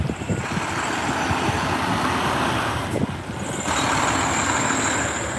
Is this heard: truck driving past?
yes